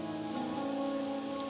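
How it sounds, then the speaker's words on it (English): Rain falls in the video game Wuthering Waves as a soft, steady hiss of patter beneath sustained tonal background music, with no voices. "are you simply passing the time until the rain ends?"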